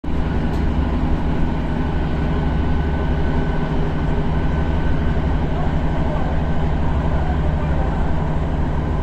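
Steady, continuous rumble of a train running along the seafront on the way to Exeter in west England, a dense low drone with even hiss above it that holds level and close throughout, with no voices.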